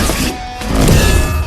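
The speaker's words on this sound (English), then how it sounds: "That's the sound of lightning." A lightning strike sound effect in an epic battle scene: a loud, dense crackling burst with a heavy rumble that swells and holds steady to the end, with no voices over it.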